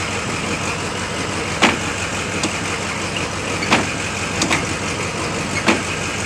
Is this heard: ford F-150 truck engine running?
yes